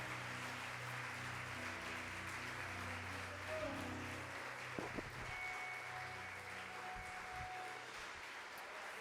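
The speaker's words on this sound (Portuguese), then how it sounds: "dá uma salva de palmas a Jesus" A church congregation at a Portuguese-language worship service claps for Jesus with soft, diffuse applause. It is faint and distant, spread through a reverberant hall, with low sustained musical tones and a few scattered knocks underneath.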